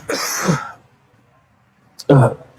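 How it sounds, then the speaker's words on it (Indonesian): A man leading a religious gathering with a lingering cough: a rough throat-clearing burst, a pause of near silence, then a second sharp cough-like clearing close to the microphone. "Mohon maaf, masih batuk."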